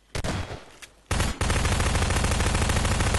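Sustained gunfire from a Garry's Mod Prop Hunt match: a few isolated shots, then a loud, continuous automatic-weapon burst that runs to the end without pause.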